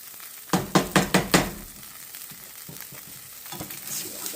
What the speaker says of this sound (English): I'm going to put a little bit of green chili sauce in there.